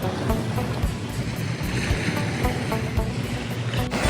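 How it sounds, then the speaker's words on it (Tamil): Sea waves wash against the shore of Burrard Inlet at Stanley Park, Vancouver, a steady close rush of surf mixed with wind buffeting the microphone, with no voices. "இந்த அலைகளோட சத்தம்"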